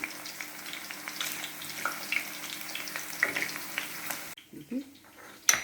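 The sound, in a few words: potatoes frying in a pan for Kashmiri dum aloo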